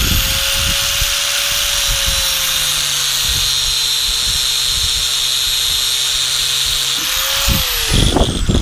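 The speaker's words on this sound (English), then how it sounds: "So you're gonna go ahead and cut that with a cutoff wheel." A cutoff wheel slices through steel-braided AN hose for a transmission cooler, giving a loud, sustained high-pitched whine that holds steady for several seconds before the tone dips and winds down with a few short bursts at the end.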